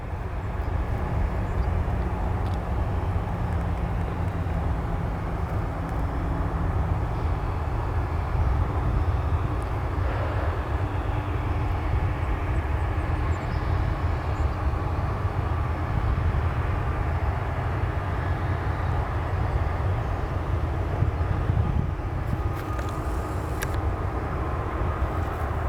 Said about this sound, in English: Here we have an Alaska 737-900 that's taxiing.